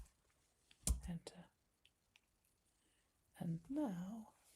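A few quick, close clicks on a computer keyboard come in a short burst, followed by a quiet voice speaking.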